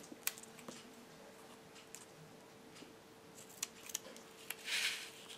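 Scissors trim excess strip material on a scalloped label punch craft project, a few faint, sparse snips and clicks over quiet background, ending in a soft rustling burst.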